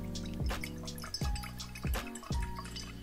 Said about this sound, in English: And then you can pour through this pouring device here.